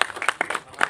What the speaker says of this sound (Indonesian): Mohon tepuk tangan buat Pak Ardi, teman-teman, luar biasa.